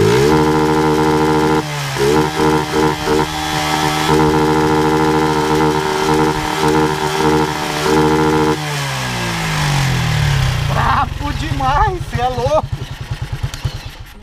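A Honda Titan KS 125 motorcycle with a competition CDI revs hard against its rev limiter, the engine note stuttering in rapid cut-outs, then dropping to a choppy idle while someone speaks over it.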